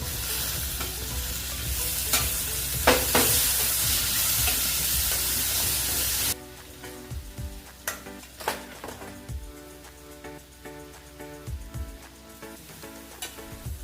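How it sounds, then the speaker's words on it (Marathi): Chopped tomato hits hot oil for a bhaji, bringing a loud hiss and sizzle with spoon stirring and scrapes against the pan, then the sizzle drops away, leaving softer intermittent stirring clatter. "इथे मी एक मोठा टोमॅटो बारीक करून घेतला होता तो टाकत आहे"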